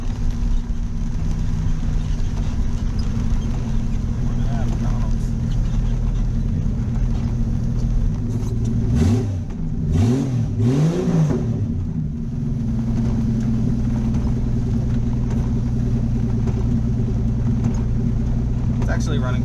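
A 1967 Ford Mustang engine runs steadily while driving, a loud continuous low rumble with a brief rising rev in the middle before it settles again.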